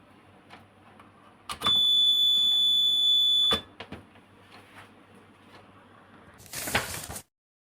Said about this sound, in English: If the buzzer sounds, the power plug is inserted with the wrong orientation